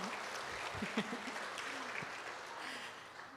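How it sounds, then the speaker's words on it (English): Audience applause at a horse racing hall of fame gala, a steady, moderately quiet patter of clapping from a crowd in a banquet hall, with a few voices mixed in. "Yes, let's clap."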